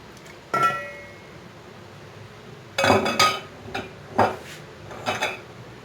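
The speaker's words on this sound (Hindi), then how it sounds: "सो मैंने एक बर्तन लिया है जिसमें मैं गोश्त शामिल कर रही हूँ।" Meat for beef shami kabab going into a metal cooking pot produces several sharp clanks and clinks of utensil against the pot, spaced irregularly with quiet gaps between them.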